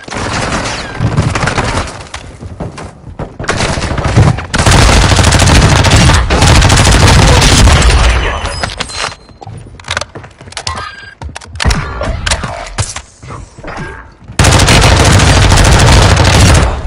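Gunfire in the video game Warzone: loud, dense automatic bursts and fusillades in long sustained volleys, broken by short pauses, with a final heavy burst near the end.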